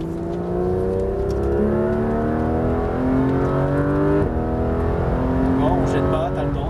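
A Porsche 991 GT3 RS on the Le Mans Maison Blanche track pulls hard at full throttle, its engine note climbing steadily through rising harmonics, with a brief shift before climbing again; a voice speaks over the engine near the end.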